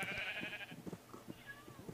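Minecraft sheep bleating in a short wavering cry, followed by soft footsteps and faint game sounds, fairly quiet and close.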